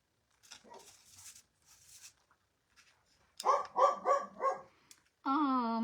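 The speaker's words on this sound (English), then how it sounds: "The dogs next door are barking." Dogs next door bark in a quick burst of four or five yips at moderate distance, after scattered faint handling sounds, followed by a sustained whining, tonal cry at the end.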